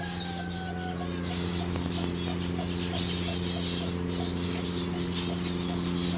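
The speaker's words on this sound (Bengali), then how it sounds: "এই ঘরের ভিতরে সব পাখি।" Birds clucking and calling continuously inside a coop, a dense steady hum of many birds with occasional sharper squawks.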